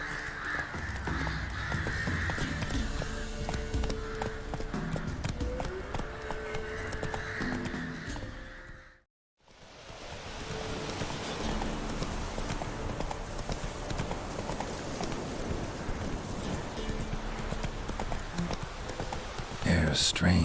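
Geralt's horse Roach gallops in The Witcher 3, a steady rapid drumming of hooves that runs loud and continuous, cuts out briefly midway, then resumes, with crows cawing and a voice speaking over it.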